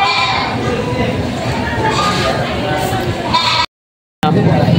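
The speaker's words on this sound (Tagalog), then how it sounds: "ito po yung mga kambing at tupa na dumating dito ngayon, yung mga native." Native goats and sheep for sale at a livestock market, bleating amid a dense, steady crowd murmur and nearby talk, the noisy bed running continuously before a brief cut to silence.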